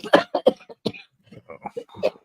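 A few short, harsh cough-like bursts up close, followed by quieter speech-like vocal sounds.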